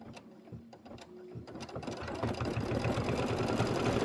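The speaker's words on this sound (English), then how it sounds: "So I'm going to sew these on right now." Sewing machine stitching tabs onto a crossbody bag, starting with a few slow stitches and then settling into a fast, steady mechanical whir and rapid ticking, close and fairly quiet.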